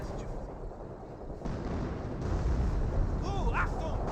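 Battle noise from the World War II strategy game Company of Heroes: continuous rumbling gunfire and explosions, growing heavier toward the end, with whistling shell sounds near the finish and a commentator's voice talking over it.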